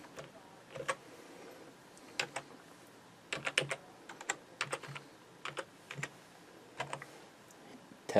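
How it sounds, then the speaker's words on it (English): Password typed on a computer keyboard: scattered, close key clicks in short irregular bursts and single taps, separated by brief pauses, over a quiet room. "Administrator, type in your password."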